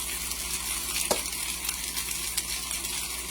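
Potatoes frying Russian style in a pan send up a steady, close sizzle with soft crackles and a brief stir or scrape partway through, and no voice over it.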